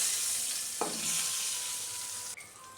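Soft steady sizzle of green chillies, garlic and curry leaves sautéing in a pan, with a brief clink of a utensil and a light stir near the end.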